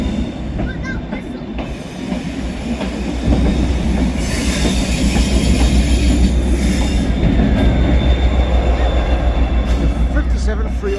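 Passenger train rolling past at Carlisle on a Blue Peter railtour day, with locomotive 57-302 at the rear; steady loud rumble and wheel noise building after a few seconds, with faint squealing and hiss throughout.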